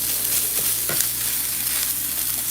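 Plant-based ground meat for cheesesteaks sizzles steadily in a hot pan, a constant crackling fry with a few soft scraping knocks as a utensil chops the chunks, close and even throughout.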